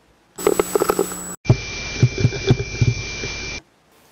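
A male spider shakes its body violently to vibrate its abdomen during courtship, recorded as two bursts of rapid, irregular rumbling pulses against a steady hum, close and fairly loud, each ending abruptly.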